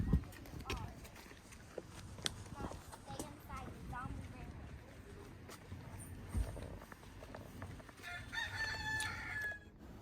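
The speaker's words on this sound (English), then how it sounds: "they do have a lot of chickens here on Kauai" A rooster on Kauai crows against busy outdoor background noise, with people talking nearby and other fowl sounds scattered through the scene; the crow stands out near the end.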